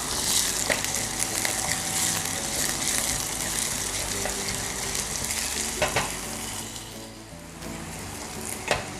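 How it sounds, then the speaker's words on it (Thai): Onions sautéing in hot oil in a pan, a steady loud sizzle and fry with stirring scrapes throughout, close and continuous with no voices over it. "ตามด้วยหอมใหญ่ลงไปเลยนะคะ แล้วก็ผัดให้เขาสุกก่อนนะคะ"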